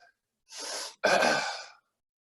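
A deep breath during a guided breathing exercise: a long audible inhale, a brief pause, then a stronger, slower exhale, close and alone in quiet surroundings.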